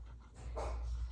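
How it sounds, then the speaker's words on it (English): A puppy pants and gives a short breathy whimper near a door, brief and faint against low room noise. "The puppies were barking at the door because there's an Amazon delivery across the street"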